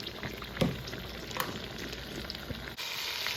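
A pot roast dusted with garlic salt browns in a hot pan, giving a steady, close sizzle and frying crackle with a few brief clanks and scrapes, with no talking.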